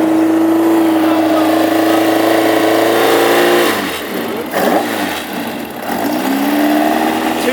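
The engine of a beige and orange classic hot rod race car idles steadily in the pits before a race at Ipswich. It holds a loud, even drone, then briefly dips and wavers as the throttle is blipped.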